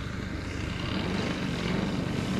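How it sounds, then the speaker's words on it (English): RC tow plane with twin DA 150 engines flying at an aerotow event, a loud continuous buzzing propeller drone that holds steady and close throughout. "a tow plane is top models, twin DA Desert Aircraft 150s"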